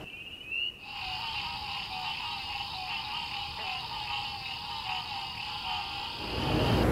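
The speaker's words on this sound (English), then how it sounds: "You might hear the voices of many of our native species, which includes 30 different frogs and toads" A dense chorus of native frogs and toads calling together on a warm spring evening in North Carolina, a steady layered trilling and croaking that holds throughout with no voices.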